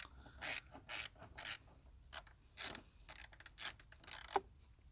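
A 10 mm wrench ratchets on the bolts of a Peugeot 308 hood latch in bursts of close, clicking pawl strokes, separated by short pauses, with no talk.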